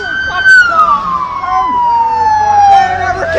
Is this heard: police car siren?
yes